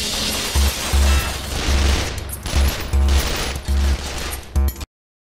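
Repeated bursts of gunfire in a comedy sketch, loud booming volleys fired in several rapid clusters with brief gaps, ending abruptly.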